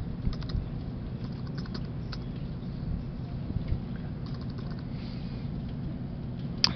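Fingers type on a computer keyboard in bursts of quick, light clicks over a low steady room hum, nearby and with no speech.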